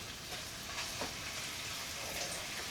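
Meatballs frying in coconut oil in a skillet give a steady, soft sizzle and crackle that holds at an even level throughout, with no voices.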